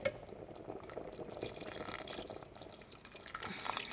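Boiled water is poured into a pot of chicken for thermal cooking, a faint continuous trickling and splashing with small drips, alone and fairly quiet.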